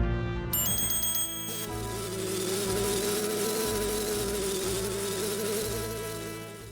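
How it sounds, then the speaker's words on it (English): A wasp buzzes in the Majora's Mask video game, a steady droning hum rising after a brief chime, sustained at moderate level with game sounds around it and no talk. "As we enter, Tatl comes face to face with a wasp."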